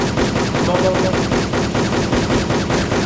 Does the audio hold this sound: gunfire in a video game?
yes